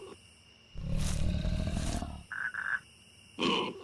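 A lion gives a loud, close, rough roar of about a second and a half, then short grunting huffs and another brief roar burst in a wild setting.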